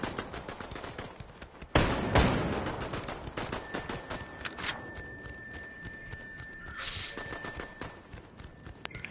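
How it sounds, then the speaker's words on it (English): Gunfire in the Fortnite video game, heard as a loud close burst of shots with a sharp crack, then scattered quieter reports and faint footsteps, and a brief louder burst near the end. "Someone else is shooting for sure."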